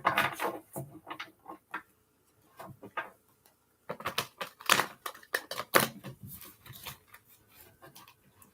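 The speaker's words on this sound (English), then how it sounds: "Maybe if I can get them shuffled." Universal Tarot cards being shuffled by hand, giving bursts of quick crisp papery riffling and tapping that stop during a brief pause and then resume, close and fairly loud, with no talking.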